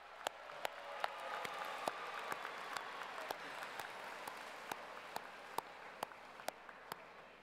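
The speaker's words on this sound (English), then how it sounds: "so give yourselves a round of applause." Applause from a high school graduation audience, a soft, distant wash of many hands clapping with a few sharp, close single claps standing out repeatedly over it, fairly quiet overall.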